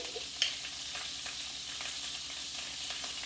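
Garlic pieces fry in hot oil in a pan, a quiet, even sizzle with a single small tap near the start, no talking.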